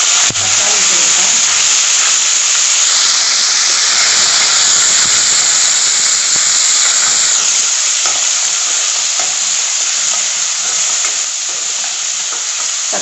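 Two chopped tomatoes dropped into a hot pan with green chillies and curry leaves: a loud, dense, steady hiss of sizzling that holds throughout and eases slightly toward the end, with no speech.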